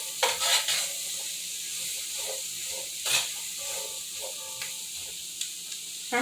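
Vegetables for cabbage soup, seasoned with salt and white pepper, saute in oil in a pan with a steady soft sizzle, broken by a few louder stirring and tossing clatters, with no talking.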